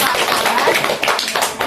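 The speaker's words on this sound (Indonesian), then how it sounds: "Kita beri tepuk tangan." A small classroom group claps hands together during a school group counseling role-play session, a short burst of close, uneven claps.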